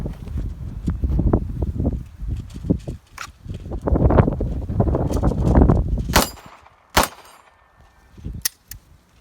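Beretta 92X pistol fired at steel plates on a shooting range, alternating double-action and single-action shots: a run of sharp, loud reports, some with bright metallic pings from the struck plates, spread across the stretch with a few isolated shots near the end.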